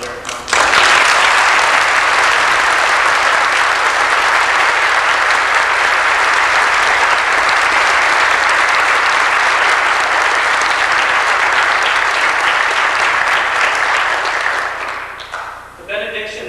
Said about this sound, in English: please join me one more time in a round of applause for their accomplishments